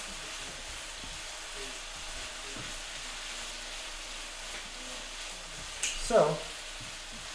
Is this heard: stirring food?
yes